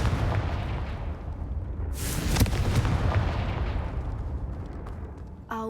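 A Confringo blasting spell in Hogwarts Legacy goes off with a sudden loud explosive boom, followed by a rumbling, crackling roar that gradually fades.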